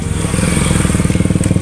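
Motorcycle close by on a village road, engine loud and chugging with a rapid, even put-put pulse throughout, heavy and low, with no talking over it.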